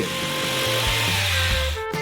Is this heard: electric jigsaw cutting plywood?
yes